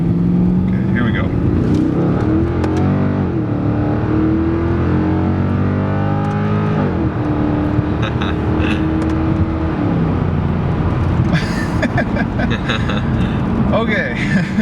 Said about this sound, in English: I've been in a lot of accelerations with the C63